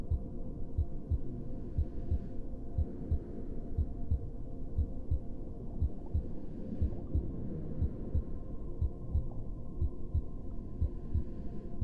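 A slow, steady heartbeat thumps in a regular rhythm over a low continuous hum, close and even, with no voices.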